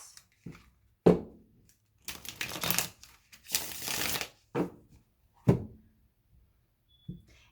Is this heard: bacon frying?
no